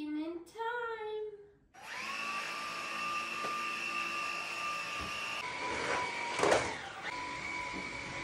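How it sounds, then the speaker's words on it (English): Mini vacuum cleaner whirring into life after a brief voice, then running steadily with a high whine and a short rattling surge partway through. "we have also a mini vacuum"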